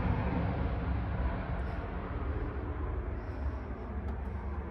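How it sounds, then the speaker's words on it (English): A broad rumbling roar of an airplane passing overhead, steady and loud throughout, with no one speaking. "Excuse the plane that's flying over."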